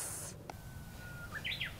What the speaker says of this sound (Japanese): このウグイスが鳴く中で寿司を調理する風情があるわよ